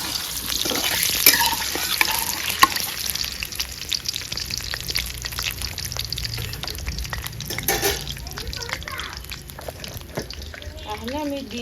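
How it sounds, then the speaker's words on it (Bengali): Cut potatoes frying in hot oil for a Bengali chicken pulao, a dense, loud sizzle with spatter and stirring noises, close up, with faint voices near the end. "এই যে আলু আমি কাটতে নিয়ে এসে এখন এই তেলে দিয়ে দিব।"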